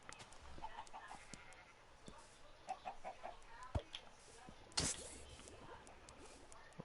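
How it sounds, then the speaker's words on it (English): Chickens cluck softly and sparsely in Minecraft, with a few quiet, scattered clucks over low ambient background noise and no talking. "There's plenty of chickens."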